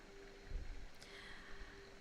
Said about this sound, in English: The frequency that you're hearing in the background is 396 hertz